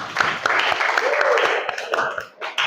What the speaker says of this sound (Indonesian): tepuk tangan untuk Vivi.